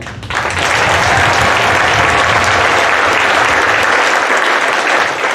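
A graduation crowd at a high school ceremony breaks into loud, sustained applause for the staff, a steady wash of clapping and cheering that fills the space throughout.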